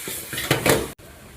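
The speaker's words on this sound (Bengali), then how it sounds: "এবার এটাকে আমরা নাড়িয়ে নেব।" Cabbage mash with turmeric stirred in a hot pan on a gas stove: a quick burst of spoon scraping and clattering against the metal, close and fairly loud, then a brief pause and quieter scraping.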